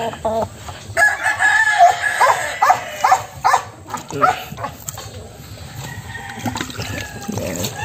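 Chickens cluck and a rooster crows at a muddy chicken coop, with a dog barking nearby and a person talking over the birds.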